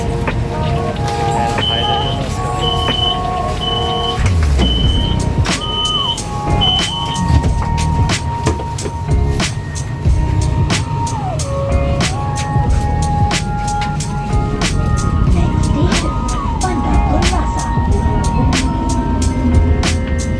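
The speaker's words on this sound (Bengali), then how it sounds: "এই মালয়েশিয়ান ট্রেনে আমি আজকে প্রথম উঠলাম।" Interior of a Malaysian passenger train in motion, with a steady loud rumble, intermittent electronic beeping tones, and clicks and knocks throughout, while people talk in the background.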